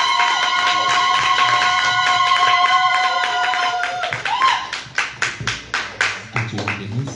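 A church congregation breaks into rhythmic hand claps after a held musical chord, the claps loud and close in steady, accented bursts over sustained organ-like tones and some voices.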